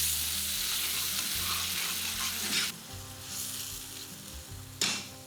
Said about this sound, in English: So not a huge amount of white wine, probably about 75 mils, which I'm just going to reduce down by half.